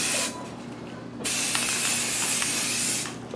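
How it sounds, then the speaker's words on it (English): Spray can of white primer misting onto a multi-level tabletop terrain model from above, two sustained hissing bursts, the second longer, loud and close with no talking. "just spray it with a little bit of white primer directly from above"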